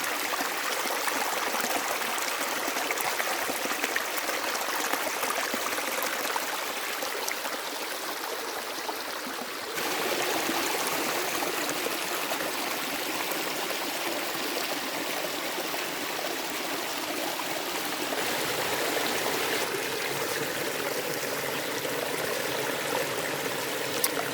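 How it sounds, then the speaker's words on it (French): A small stream flows steadily over a rocky tufa bed with a broad, even rush of water and light trickling, close by and continuous, with no voices. "la petite rivière a couvert son lit de roches"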